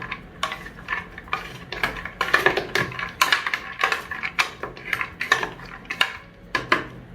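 A food processor pulses walnuts in a string of short bursts, each a sharp, rattling clatter of hard nut pieces against the bowl and blade, loud and close with brief gaps between.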